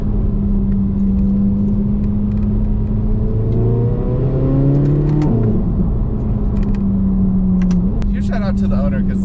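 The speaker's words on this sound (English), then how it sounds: "Do a little downshift right here." A 2023 Corvette Z06 engine rises in revs, then drops sharply as it blips on a downshift, loud and close, with a voice talking over the steady engine drone.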